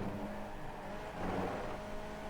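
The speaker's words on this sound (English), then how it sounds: "So you heard the shift sound" A Skippy race car at Laguna Seca holds a faint, steady engine drone that dips briefly at a gear shift, then picks up again with a rougher, rising rev.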